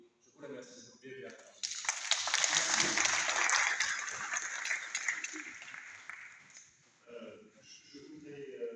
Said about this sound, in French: encore une fois, nous applaudissons